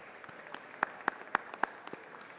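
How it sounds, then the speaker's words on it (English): Sparse, scattered clapping in the House chamber for visiting Baylor University educators, with a few sharp, distinct claps standing out over a quiet background. "everybody clap for them"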